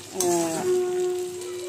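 Potato and pumpkin pieces frying in a pan, a short burst of sizzling with a stir and light scrape of a utensil near the start, then steady crackling.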